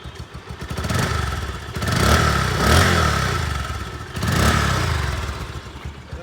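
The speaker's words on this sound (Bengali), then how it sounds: "আর একটু স্টোর দিয়ে সাউন্ডটা দেখাবো মোটরসাইকেল" A Bajaj Pulsar motorcycle engine idles roughly nearby, then revs up several times in surges before settling back.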